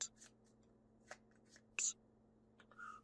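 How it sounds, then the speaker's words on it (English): Cards for the Bloodborne board game being shuffled at a table, several quick papery riffles and snaps in short separate bursts, quiet and close, with no talking. "Getting wild with the shuffling. Just absolutely crazy with the shuffling."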